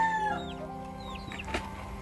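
Backyard chickens, near a mango tree, give a few short, soft clucks over quiet ambient noise.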